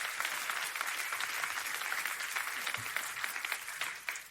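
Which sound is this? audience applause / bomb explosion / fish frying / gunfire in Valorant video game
audience applause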